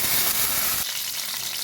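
Mustard seeds, cumin and urad dal sizzle loudly in hot oil, a dense continuous crackling hiss that eases slightly partway through, close and unbroken, with no voice present.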